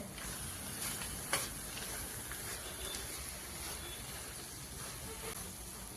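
Carrot halwa being stirred in a pan as dry fruits are mixed in, a soft continuous sizzle with light scraping and one brief clatter, low hum underneath.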